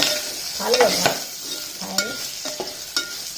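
Green chillies fry in a pan while being stirred for a gongura pod chutney: a steady sizzle broken by the scrape and clink of the utensil against the pan, close and fairly quiet.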